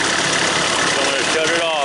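An excavator's diesel engine idles with a steady, loud, close rumble throughout, while someone talks over it.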